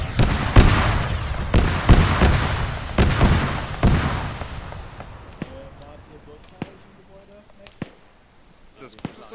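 Gunfire in the military shooter ArmA 3: a rapid volley of loud, sharp gunshots fills the first four seconds, followed by sparser, quieter single shots in the distance as the shooting thins out.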